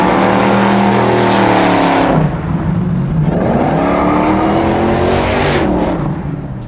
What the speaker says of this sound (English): when you hear the thing, you know it's a Hellcat engine